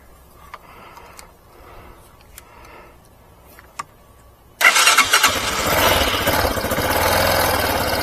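A motorcycle powered by an EBL 300A lithium LiFePO4 12V 5Ah battery gives a few faint clicks and ticks, then its engine abruptly catches and settles into a loud, steady idle.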